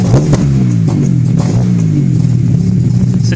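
A Mazda RX7 engine, warm and running rough, revs loud and close with a steady, slightly uneven droning roar and a faint clatter.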